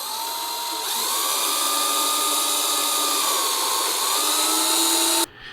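A power drill whines steadily as it bores holes in a small piece of plastic, a loud, continuous high-pitched whir that holds for about five seconds and then cuts off abruptly.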